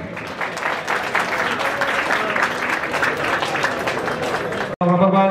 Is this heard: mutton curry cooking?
no